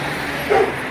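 A single short bark from a stray Dogo Argentino rings out once over steady outdoor street noise, moderately loud and not too close.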